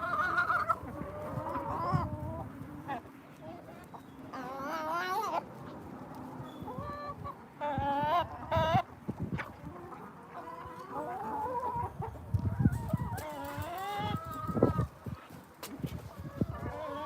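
Chickens cluck and squawk in a farmyard, with a rooster crowing now and then among them; the calls come near and fairly clear over faint outdoor background.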